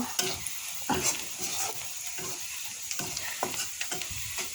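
Onions frying in hot oil in a pan, a steady close sizzle broken by repeated scraping strokes of a spoon stirring them, with no talking.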